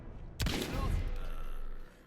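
A single loud revolver shot in Indiana Jones and the Great Circle, a sharp crack followed by a booming echoing tail that fades over about a second and a half.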